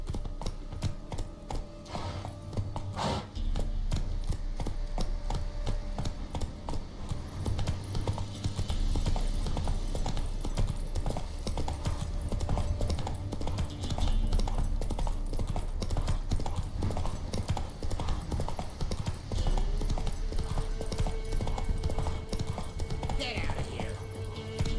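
Roach, Geralt's horse in The Witcher 3: Wild Hunt, gallops in a steady, rapid clip-clop of hooves that runs nearly the whole time, with a brief whinny and game ambience layered underneath.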